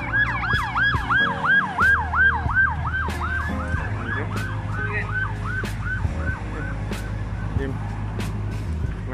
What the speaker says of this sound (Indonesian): Di ambulans.